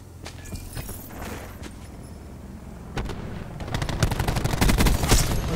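Rapid gunfire bursts in a first-person shooter game, starting as scattered shots and building into dense, loud rattling volleys toward the end, with no talk over them.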